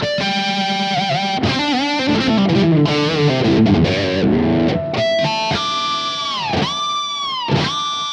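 A distorted electric guitar through a Sinvertek N5+3D Golden Version drive pedal plays loud chords and bending notes with ringing harmonics, sustained and saturated, no voices.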